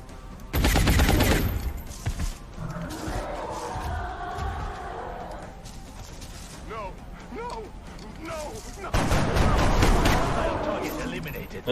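Gunfire from the XCOM Long War strategy game: two loud bursts of rapid shots, one at the start and one near the end, with mechanical clanks and rattles in the quieter stretch between them.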